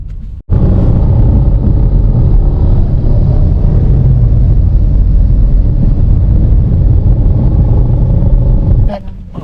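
Interior of a taxi driving through Manila traffic, a loud, steady low rumble of engine and road noise with wind buffeting the microphone, continuous throughout.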